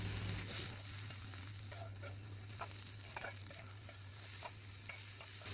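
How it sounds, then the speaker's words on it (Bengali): Young figs being stirred in a pan over an earthen clay stove, with steady close sizzling and the scrape and patter of the spoon through the frying mixture, no voices. "পরিমাণ মতো লবণ এবং হলুদের গুঁড়া দিয়ে ভালোভাবে নেড়ে নেব"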